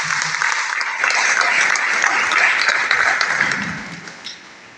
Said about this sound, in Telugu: once big clap sir